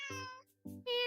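A kitten in a video game meows twice in quick succession, the cries clear, close and high-pitched with no talking over them.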